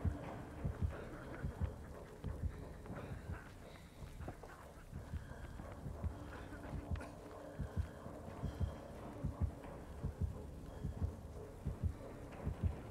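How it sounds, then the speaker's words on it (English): The Dead by Daylight heartbeat warning pulses steadily in game, a deep, regular thumping throb that repeats for several seconds at moderate loudness beneath low ambient game noise. "you hear the heartbeat everywhere on the map"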